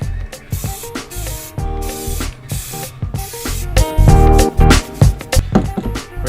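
Spray paint goes onto multi-piece wheel center caps in a series of short, close bursts of hiss, repeated irregularly in quick succession.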